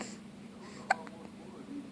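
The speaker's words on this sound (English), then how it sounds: "Do you have the hiccups?" A baby gives a single soft hiccup in a quiet room. It is brief and close, with faint breathing around it.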